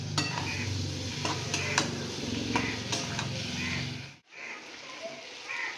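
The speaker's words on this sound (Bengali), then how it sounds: "এবার এই শুকনো মশলাগুলো ভালো করে মিশিয়ে নিচ্ছি।" Dry ground spices, including chilli powder, stirred in a pan for a prawn curry, with a spatula scraping and clinking against the metal over a steady low sizzle, a brief break near the end.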